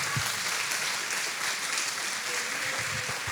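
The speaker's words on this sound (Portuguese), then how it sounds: "Vamos aplaudir nosso Deus." A church congregation applauding during a Portuguese-language worship service, steady dense clapping filling the room at moderate volume without a break.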